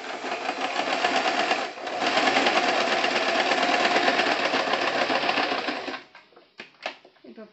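An electric sewing machine runs a steady, close zigzag test stitch on a piece of old cloth for about six seconds, then stops, followed by a few faint clicks and handling sounds; a voice talks briefly.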